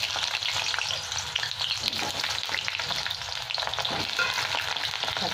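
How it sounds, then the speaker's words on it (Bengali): Lentil bori made from moong and masoor dal frying in hot oil, giving a loud, close, continuous sizzle with occasional stirring scrapes and no voices. "তেলটা গরম হয়ে গেছে, বড়িগুলো ভেজে নিচ্ছি।"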